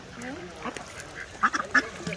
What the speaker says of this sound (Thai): มาดูเป็ดเล่นน้ำกันนะคะ